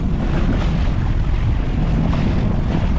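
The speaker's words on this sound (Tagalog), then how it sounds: "Ratsa ng hangin. Tumatagos dito sa likod." Loud, blustery northeast monsoon wind buffets the microphone with a constant low rumble and roar, no voices heard.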